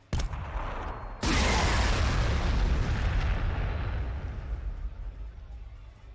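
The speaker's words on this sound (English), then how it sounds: "Let's throw some missiles into here." Missiles striking in Warhammer 40,000: Sanctus Reach: two heavy blasts a second apart, with a loud booming rumble that rolls on and slowly fades.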